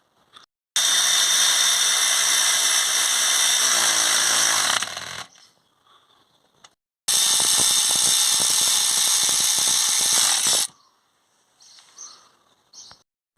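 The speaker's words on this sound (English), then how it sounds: "Now we can get our electric ratchet back down in here and wind them up." Electric ratchet winding in alternator bolts on a BMW 5 Series F10 530d/525d diesel, two long, loud, steady whirring runs of several seconds each, close up, separated by quiet pauses with faint clicks.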